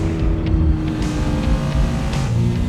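A 2026 Toyota GR86 sports car's engine drones loud and close from inside while driving, a steady low hum with slight rises in pitch and no talk over it.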